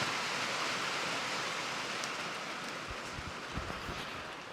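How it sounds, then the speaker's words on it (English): Rain falls on a chicken pasture as a steady, even hiss that fills the whole stretch, with a few faint dull taps near the end. "Of course it's raining."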